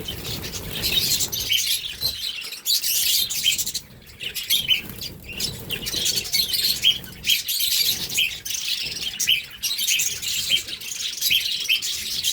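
Many budgerigars chirp and twitter continuously inside a bird farm, a dense overlapping chorus of small calls with occasional wing flutters, fairly close and steady throughout.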